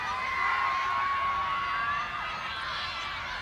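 Soccer crowd at a Big 12 Tournament women's match, Kansas versus Texas, rising to its feet with a steady wash of cheering and whoops that swells early and then eases slightly, sustained throughout without a break.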